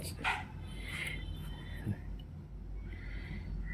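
A dog named Ruby giving a few sharp yips and barks mixed with thin whimpering whines, close by, over a steady low background hum.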